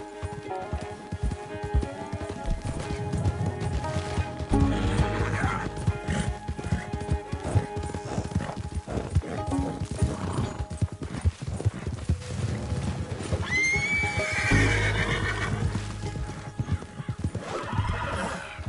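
In Red Dead Redemption 2, a horse's hooves clip-clop busily at close range while loud neighs and whinnies burst out twice, amid rustling game ambience.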